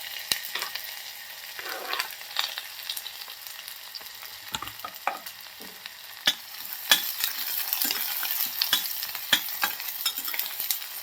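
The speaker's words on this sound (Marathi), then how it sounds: "कांदा भाजून घ्यायचा आहे आपल्याला" Chopped onion crackles and sizzles in hot oil in a cooking pan, with steady frying hiss punctuated by sharp scraping and stirring clicks, close and without speech.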